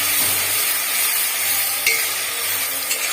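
Tomato paste frying in a pan for a spicy eggplant curry gives a steady, moderately loud sizzle with a faint low hum underneath and an occasional soft knock of the utensil.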